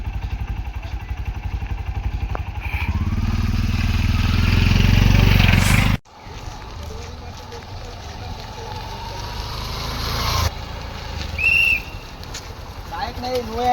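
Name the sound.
motorcycle engine near a closed bridge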